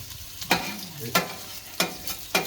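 Monkfish, scallops, prawns and fried rice sizzle on a griddle under a steady frying hiss, punctuated by four sharp, evenly spaced scraping strokes of a spatula, with no speech.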